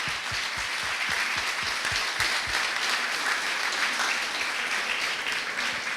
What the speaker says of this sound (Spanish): El que pide de ustedes un aplauso para ellos